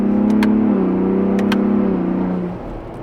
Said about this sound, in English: what I love about these 10R60, 10R80 transmissions from Ford is that even though they're not a dual clutch transmission, it's very respectable how quick the shifts are